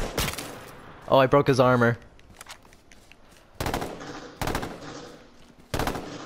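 Bursts of gunfire from the video game H1Z1 ring out in short volleys, spaced apart and fairly loud, with a player briefly speaking between them.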